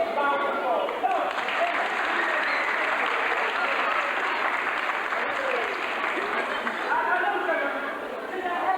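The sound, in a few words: audience applause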